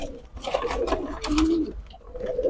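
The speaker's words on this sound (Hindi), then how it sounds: "तो भाई ये हमारा कबूतर है," Pet pigeons at a home loft give soft, low throaty coos, a few rolling calls close by over faint background noise.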